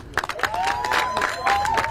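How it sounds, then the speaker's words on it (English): A short burst of clapping and light cheering from a crowd at an outdoor rally at the Louisiana State Capitol, with a sustained tone sounding over it. "Everybody give Trey a round of applause."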